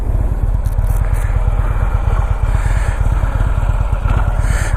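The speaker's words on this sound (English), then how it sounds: "I want to introduce you to my 2015 Harley-Davidson Ultra Limited" A 2015 Harley-Davidson Ultra Limited motorcycle engine runs with a deep, rapid rhythmic throb and loud, close rumble, steady throughout with a faint high whine on top.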